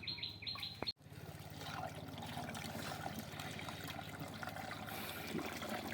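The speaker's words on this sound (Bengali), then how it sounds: "ও পাশে আমাদের বড় ভাই রস নামাচ্ছে এবং জারকিনে ঢালছে" Date palm sap pours steadily into a jerrican in rural Rajshahi, a continuous trickling, splashing flow that runs unbroken for several seconds after a brief knock at the start, with faint birdsong in the background.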